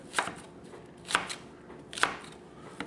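A knife dices an onion on a cutting board, giving three crisp, evenly spaced chops about a second apart, close and fairly quiet with no talking.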